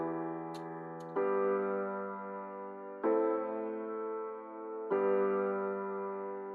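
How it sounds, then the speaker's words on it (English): Sustained chords on two different pianos are struck together three or four times, each ringing and slowly fading before the next, with no voices. "This time I used two different kind of pianos."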